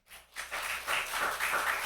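A church congregation applauding at a Sunday evening service, with a short burst of clapping that swells quickly and holds steady for under two seconds.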